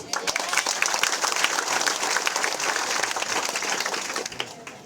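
Continuous audience applause at an AIM Global seminar after a speaker finishes; dense, sustained clapping from a large crowd, loud and even, with some voices mixed in.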